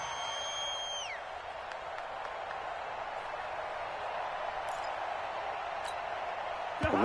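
A stadium crowd at a Cowboys–Vikings football game in Arlington roars and cheers in a steady, dense wash of noise that holds for the whole stretch, with a brief whistle-like tone fading early on.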